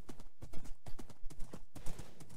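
Horse hooves clopping in the Minecraft 1.8 video game, a quiet irregular series of soft hoof steps spread over a couple of seconds with no talk.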